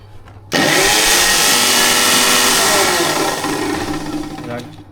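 A Walton 850W electric blender starts abruptly and runs with a loud, steady whirring roar that eases slightly toward the end, heard close up.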